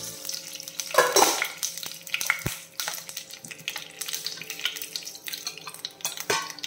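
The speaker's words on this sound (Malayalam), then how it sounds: "എണ്ണ ചൂടായിട്ടുണ്ടോ എന്ന് നോക്കി, ചൂടായിട്ടുണ്ട്. 1/2 ടീസ്പൂൺ കടുകിട്ട് കൊടുക്കാം." Half a teaspoon of mustard seeds spluttering in hot oil in a pan, with irregular crackles and pops over a continuous sizzle and occasional sharp ticks.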